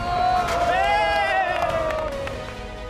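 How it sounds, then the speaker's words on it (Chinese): Local football fans in Jordan cheer and whoop together, a loud sustained crowd roar with rising voices and some clapping, heard fairly close and fading slightly toward the end. "跟着当地人的欢呼，领略这里的足球精神"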